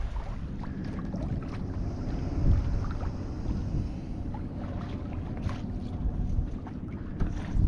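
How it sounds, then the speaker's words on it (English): A skipjack sailboat under way on open water near Marathon, with steady wind rush and water wash against the hull, a continuous even background with occasional small knocks. "Sailing into Marathon."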